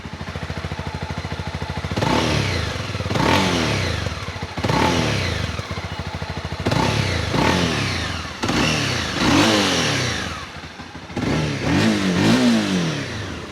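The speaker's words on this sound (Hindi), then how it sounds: "चलिए फायर अप करते हैं होंडा को।" A Honda CB300r motorcycle engine fires up and revs repeatedly, with about six loud throttle blips rising and falling over a steady idle, close to the bike and with no talking.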